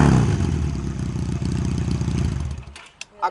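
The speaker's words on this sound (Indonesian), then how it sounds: "ini teman-teman suara dari Benelli PE 250" A Benelli PE 250 twin-cylinder motorcycle engine revs hard with a throbbing, uneven pulse, holds loud for a couple of seconds, then drops away abruptly, ending in a couple of pops.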